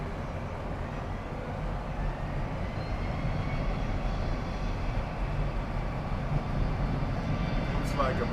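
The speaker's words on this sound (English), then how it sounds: "Looks like American coming in across runway." Steady broad roar of an American Airlines jet landing across the runway at Miami Airport, sustained and fairly loud throughout, heard from a distance with a continuous rumbling engine wash.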